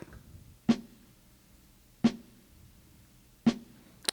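Three sharp, light snare hits from an Ensoniq ASR-10 sampler, spaced evenly about 1.4 seconds apart, crisp and close with short decays over a quiet background.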